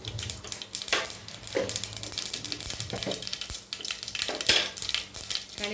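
Mustard seeds crackle and pop in hot oil in a pan in a home kitchen, a steady sizzle with irregular sharp bursts and stirring scrapes close by, no voices.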